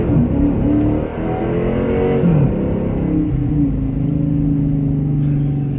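A car engine revs hard and loud throughout, its pitch climbing, then dropping at firm gear changes before climbing again in a steady, close drone.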